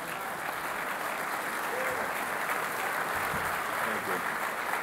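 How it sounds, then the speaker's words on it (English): Steady, dense applause from a large audience of mayors and business leaders at a plenary breakfast, honoring Bob Foster, sustained evenly throughout without pauses. "Please give Bob Foster one more round of applause."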